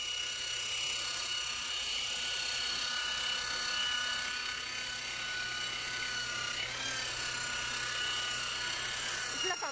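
A carpet scrubbing machine, used like a vacuum on a motorhome's carpet and runners, whirs loudly and steadily throughout, a constant high-pitched motor drone with no pauses.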